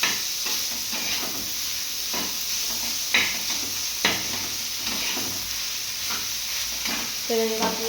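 Crumbled paneer stirred and sautéed in hot oil in a pan, a steady close sizzle with repeated scraping stir strokes and occasional clinks of the spoon.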